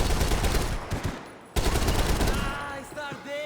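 Rapid bursts of automatic gunfire from the video game Max Payne 3, loud and dense through the first half, then a second volley with shouting voices over it.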